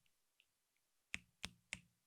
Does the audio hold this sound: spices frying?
no